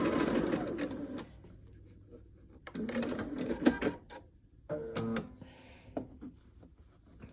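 A sewing machine stitches pieced quilt fabric for a Carpenters Wheel and Stars pattern, running in short, quiet bursts of rapid stitching with brief pauses between them.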